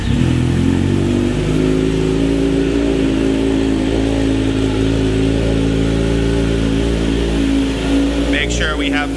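A Kawasaki Z900RS motorcycle idles steadily and loudly close by after a fresh oil change, its engine drone even throughout, with a brief voice near the end.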